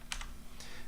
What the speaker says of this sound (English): I'll just type it like this.